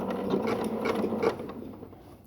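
A sewing machine runs lock stitches and zigzag stitches along the side of a tote bag made from quilted squares, giving a quick, rapid mechanical chatter that slows and fades over about two seconds.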